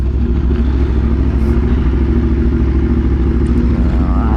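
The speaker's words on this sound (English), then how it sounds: "This bike is super duper loud with the AC Progen. It's crazy loud." A loud Aprilia RSV4 sport motorcycle engine drones steadily throughout, a thick, rumbling roar with constant rattle while riding, no gaps or talk.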